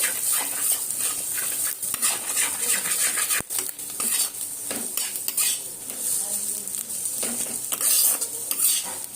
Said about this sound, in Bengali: যেমন স্ক্র্যাম্বল এগ করে ওরকম ভাবে একটু ভেজে নেব